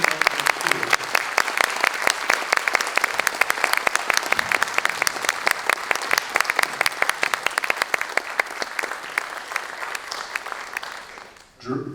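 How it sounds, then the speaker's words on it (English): A room full of people at an evening community gathering applauds a group who work with schools, sustained dense clapping for about eleven seconds, loud and even, then fading out with a few voices at the end. "I just want to have us engage in a round of applause for this group of people"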